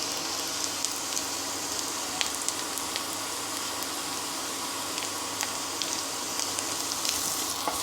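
Ginger-garlic paste sizzling in hot oil with frying onions and green chillies for a dhaba-style arbi (taro root) curry, a steady close crackling hiss with faint stirring, no voices.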